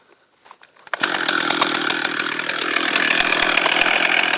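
After a few faint clicks, a chainsaw roars to life and keeps running loud and close, its buzzing chain holding a steady, slightly rising drone after the cut is finished.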